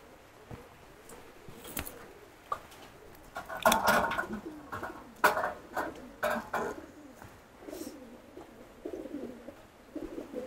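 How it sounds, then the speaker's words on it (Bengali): Pigeons coo in a breeding room on a livestock farm, soft repeated calls from several birds with a few louder bursts over a quiet background. "এখানে হচ্ছে কবুতরের থর দেওয়া আছে, মানে ব্রিডিং রুম।"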